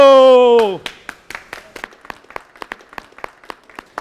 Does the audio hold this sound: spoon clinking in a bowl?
no